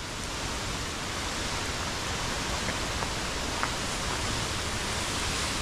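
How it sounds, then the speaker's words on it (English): A canyon waterfall near Twin Falls, Idaho roars in a steady, dense rush of falling water that stays even and close throughout, with no voices. "We have made it to the waterfall."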